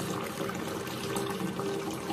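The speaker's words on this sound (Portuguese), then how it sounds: "coloco uma água aqui nesse tambor aqui, misturo bem" Water pours into a drum for mixing a vacuum-pickling brine for Japanese cucumbers, a steady close rushing splash that runs the whole time with no talking.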